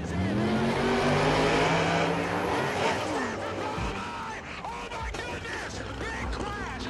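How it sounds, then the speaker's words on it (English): A drag racing Corvette crashes and skids to a halt in a loud, chaotic rush of engine roar and tire noise, with squealing sweeps and speech running over it. "dramatically slamming back down to earth and skidding"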